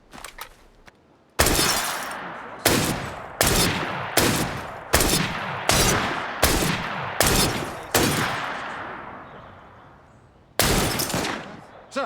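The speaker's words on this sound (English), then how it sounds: "That sounded like a second gunshot." Gunshots fired in Assassin's Creed Syndicate, a sharp report followed by a steady run of about eight loud, evenly spaced shots with decaying tails, then a pause and one final blast.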